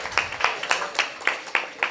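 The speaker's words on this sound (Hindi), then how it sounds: "सबके लिए जोरदार तालियां।" Audience at a Jain pathshala teachers' seminar clapping in an even rhythm, sharp claps landing about three or four times a second, moderately quiet and with no talk over them.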